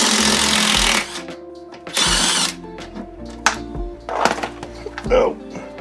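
On a snow blower under repair, a power tool backs out 2 1/2 inch bolts in short, loud bursts of whirring and rattling separated by pauses, with clanks and shuffling handling sounds between them.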